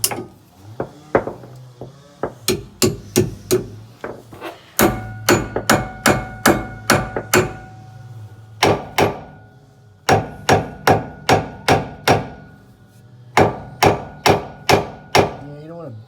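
Sharp metal hammer blows strike a power steering pump on a GM 4106 bus during replacement, coming in quick bursts of evenly spaced, loud impacts with brief pauses between groups.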